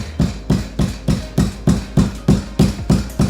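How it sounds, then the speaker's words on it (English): Steady, close thumps of a drywall cutting knife being tapped at an angle through sheetrock, about ten evenly paced knocks, each with a short hollow ring, and no voices. "I kind of angle my cutting knife, drywall cutting knife at an angle, and just kind of tap it just to get through that sheetrock"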